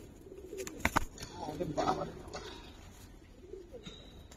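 Giribaj pigeons, silver with black necks, coo softly at close range in a few short throaty bursts, mixed with light handling noise and a faint background hum.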